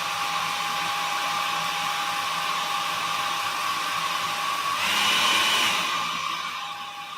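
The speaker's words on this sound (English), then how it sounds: "let me just get my hairdryer" A hairdryer blows a steady, loud whirring roar for several seconds while drying paint on a cactus craft, its pitch shifting briefly as it is moved around.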